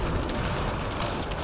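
A fiery biotic explosion in a sci-fi shooter game, heard as a sustained, dense roaring rumble and crackle that fills the whole clip at strong level, with no break and no talk.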